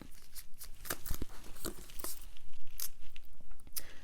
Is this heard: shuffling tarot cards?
yes